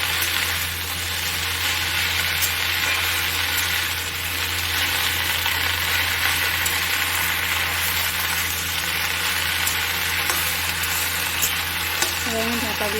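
Food frying in oil in a pan is stirred with a steady, even sizzle that fills the whole stretch at constant loudness, a faint low hum underneath and occasional scraping near the end.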